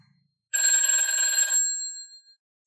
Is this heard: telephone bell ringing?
yes